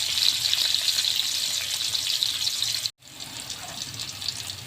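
Steady rushing water poured into a pan of sautéed garlic and onions, with a brief cut near the middle before the flow continues.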